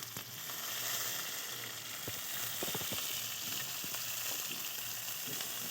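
Bay leaves and dried red chillies sizzle in hot oil in a kadai, a steady close frying hiss with scattered small pops and crackles, no voices.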